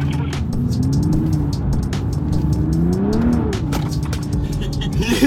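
A car accelerates on a racing track during a driving lesson, engine pitch rising and falling through revs with tyre noise, steady and close throughout.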